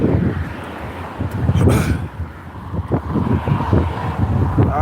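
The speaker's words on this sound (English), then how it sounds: "it's getting hella windy." Strong wind buffets the microphone in uneven rumbling gusts, swelling and easing over several seconds, loud and close, with no talk.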